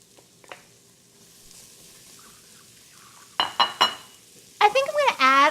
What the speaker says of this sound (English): Okay, so I'm going to add the onions in.